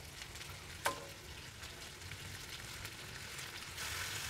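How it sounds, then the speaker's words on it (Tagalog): Chicken pieces sautéing in a hot pan with ginger and garlic for a spicy Filipino chicken liver and gizzard dish give a steady close sizzle, with a sharp utensil clack near the start and the frying growing louder toward the end. "ilalagay na natin yung ating chicken. Sangkutsahin muna natin siya dyan."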